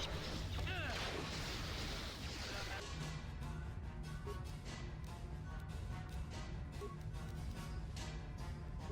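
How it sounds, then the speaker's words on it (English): Grenade explosions in the video game Star Wars KOTOR, a dense, loud burst of blasts at the start that settles into continuous crackling battle noise with repeated sharp impacts. "who's throwing grenades?"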